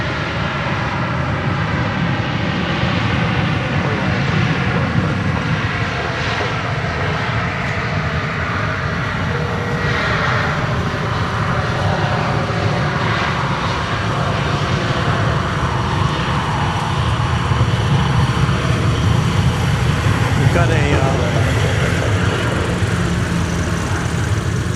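An airplane on the runway at DFW Airport makes a loud, sustained jet roar that holds steady for the whole stretch, with faint shifting whine tones riding on top and no voices.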